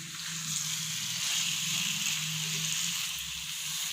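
Chicken sautés in a skillet over a medium flame, a soft steady sizzle and hiss close by with faint stirring sounds, no talk.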